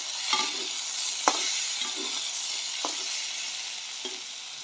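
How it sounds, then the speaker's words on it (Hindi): Chickpeas and potatoes stirred and fried in a pan, with a steady sizzle under a few distinct spoon scrapes and knocks spaced about a second apart. "2 मिनट के लिए चना और आलू को भून लेना है"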